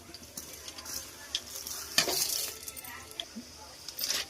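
Mustard seeds, chana dal and urad dal crackle and sizzle in hot oil for pulihora, a steady close fizz broken by sharp pops and a few brief spoon scrapes.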